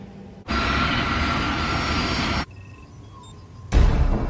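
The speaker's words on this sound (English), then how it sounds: "As the aircraft approach the runway" Aircraft engine noise as a Crossair passenger plane approaches the runway at Zurich Airport, a loud sustained roar that cuts off abruptly, drops to a quieter interior hum, then returns in a heavy rumbling surge.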